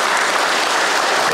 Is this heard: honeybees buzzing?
no